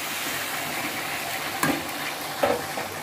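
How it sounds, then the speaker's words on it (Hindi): Yam pieces coated in turmeric and salt fry in a pan with a low, steady sizzle. Two brief stirring knocks break through near the end, and no one speaks. "थोड़े थोड़े देर में चला के हम लोग इसको फ्राई करेंगे।"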